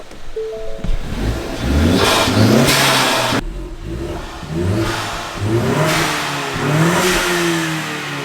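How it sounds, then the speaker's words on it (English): A 2JZ engine in a 2015 Ford Mustang revs several times in quick succession, each rev rising and falling, loud and close, with no talking. "I'm going to give you guys a couple little revs in here"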